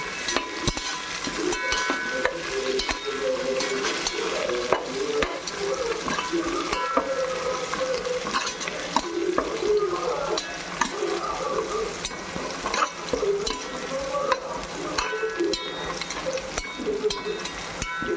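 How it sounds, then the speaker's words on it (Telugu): Coriander and mint being stirred in a hot pan while cooking a chicken fry piece biryani: a steady low sizzle with soft, continuous scraping and shuffling strokes, close and even throughout, with no talking. "కొత్తిమీర పుదీనా వేసుకున్నాక కొంచెం తిప్పుకుందాం."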